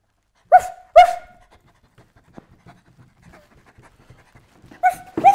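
A person imitates a dog panting in short, breathy bursts, with a loud pair of pants at the start and another pair at the end, and quieter rustling in between.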